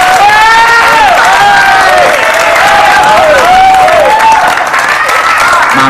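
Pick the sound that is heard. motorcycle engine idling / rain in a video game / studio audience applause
studio audience applause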